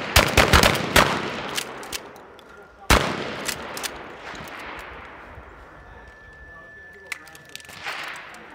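At a tactical shotgun class on an outdoor range, several shotguns boom in quick pairs from the firing line, with loud cracks, lingering echoes and a few scattered later shots.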